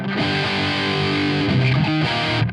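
A heavily distorted electric guitar plays sustained, thick chords through a Mesa amp patch on a Valeton GP200, with a gritty, saturated tone, loud and continuous throughout.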